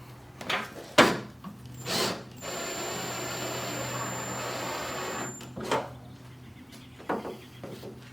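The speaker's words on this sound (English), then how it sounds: "Last 4 bolts up here at the top." A power tool drives the last bolts at the top of a BMW E46 fender. Several short whirring bursts are broken by one longer run of about three seconds, all close and fairly loud, with no talk.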